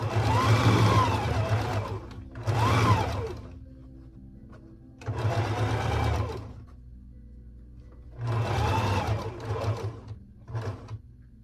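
A sewing machine stitches the shoulder seam of a dress in several loud, close bursts of rapid whirring, separated by short quiet pauses.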